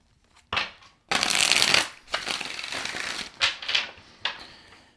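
Tarot cards are shuffled in several quick riffling bursts, one long crisp flurry followed by shorter flutters, close and clear with no talking.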